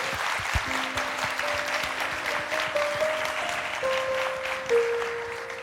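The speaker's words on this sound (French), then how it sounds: "Applaudissements, mesdames, messieurs." A television studio audience at a children's singing show claps steadily and densely, with a few sustained tones faintly underneath.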